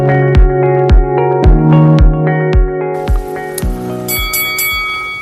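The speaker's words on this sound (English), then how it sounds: "You heard the bell." A metallic bell is struck in a steady series of about a dozen ringing strikes, each with a sustained tonal ring, loud and close, and the pattern shifts slightly near the end.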